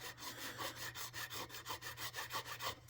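A hand file scrapes steadily across guitar frets with light pressure, producing a quick, even rhythm of about fifteen rasping strokes, close and alone.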